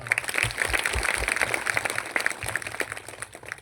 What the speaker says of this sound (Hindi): प्रभु के लिए और इस परिवार के लिए ताली बजाएं